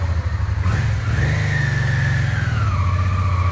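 A Honda NTV650 motorcycle engine runs steadily in gear, loud and close, with a low throbbing idle that rises in pitch as it picks up a little speed, then settles, with no talking over it.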